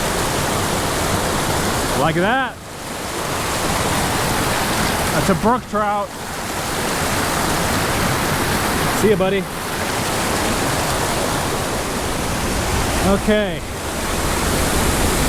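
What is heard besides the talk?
waterfalls in a gorge with pools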